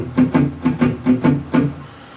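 Blues guitar riff played with heavy palm muting, seven short, thudding choked notes close up and alone, each cut off quickly before the sound fades out.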